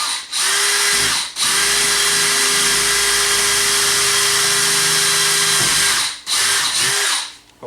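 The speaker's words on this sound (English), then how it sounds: "Take our drill." A power drill whines steadily for several seconds as it bores through rawhide, loud and close, starting and stopping in short bursts at the beginning and end.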